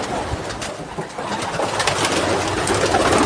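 Pigeons cooing in the desert, a close, continuous chorus of soft throaty coos over steady outdoor background noise, with no voices.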